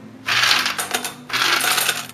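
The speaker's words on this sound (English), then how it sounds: "in a bowl I'm going to add some ice cubes" Ice cubes dropped into a bowl to make an ice bath, giving two bursts of rattling, clattering clinks separated by a short pause, close and fairly loud with no talking.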